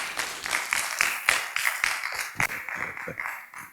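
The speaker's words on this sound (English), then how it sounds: "Let's acknowledge him with a round of applause." A general-meeting audience gives a round of applause: distinct, fairly close claps arrive in a loose, uneven rhythm, rising and thinning in waves without a dense roar.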